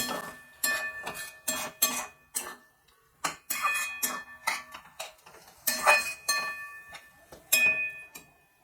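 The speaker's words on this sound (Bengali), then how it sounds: "এখন ভালো করে নেড়ে চেড়ে আমি এটাকে মশলার সাথে মিশিয়ে নেব" A spoon stirs prawns and taro with spices and a splash of water in a pan, making a steady run of clinks and scrapes against the metal, close and fairly loud, with no talking.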